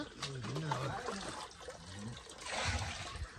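Water runs from a tap, filling a container with a steady rushing trickle throughout, with a voice speaking faintly over parts of it.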